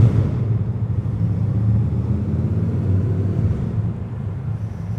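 Deep, steady Honda Shadow 750 Aero motorcycle engine rumble echoing in a parking garage, loud at first and easing slightly toward the end.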